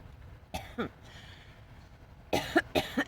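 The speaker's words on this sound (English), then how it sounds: "everybody's got a tickle cough" Two bursts of tickly coughing, a short pair of dry coughs followed by a longer cluster of three, close and fairly loud against a quiet room.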